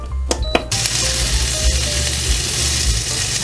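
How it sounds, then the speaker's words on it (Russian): Sausages frying in hot oil in a pan while ramen is being cooked. A few quick clicks come first, then a steady, close sizzle carries on without a break. "Пойдемте жарить сосиски."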